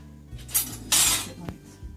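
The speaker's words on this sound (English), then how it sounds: "So now I'm going to go ahead and stir them together." Eggs stirred together in a dish before going into the microwave: a few quick clinks and scrapes of a utensil against the dish, close and brief, with no voice.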